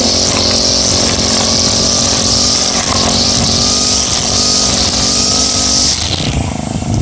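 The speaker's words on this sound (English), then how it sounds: "It seems like you can feather the throttle pretty nicely, so kind of go at a medium pace if you want to." A Husqvarna 324L four-stroke gas string trimmer engine runs steadily at a moderate, feathered throttle, a loud close buzzing drone that holds for about six seconds before dropping away near the end.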